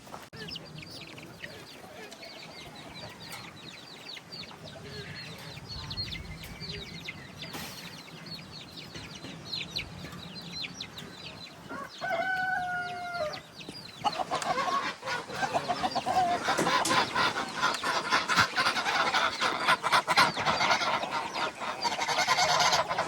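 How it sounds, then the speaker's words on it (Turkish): Free-range chickens cluck and call in a garden, with a goose honking nearby; scattered bird calls sit over steady outdoor background that grows louder and busier toward the end, with no talking. "Şimdi tavukları salacağım."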